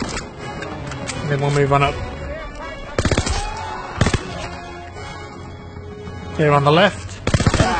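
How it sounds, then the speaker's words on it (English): Bursts of rifle gunfire in a Call of Duty World War II battle, shots punching through wood, several sharp volleys spaced across the scene, loud and close, with someone talking between them. "Shoot through the wood there."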